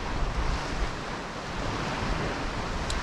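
Sea waves at Tenby in Pembrokeshire about an hour into the flood tide, a broad continuous surf roar with wind buffeting the microphone, fairly loud and close with no talking.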